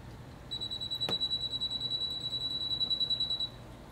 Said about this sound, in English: So once you hear the beeping sound